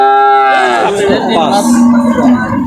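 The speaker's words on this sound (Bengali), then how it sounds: "এই গরুগুলো দেখালাম" A high-percentage Friesian heifer at the Dakumara cattle market gives one loud, close, drawn-out moo that slides down in pitch and holds steady before trailing off.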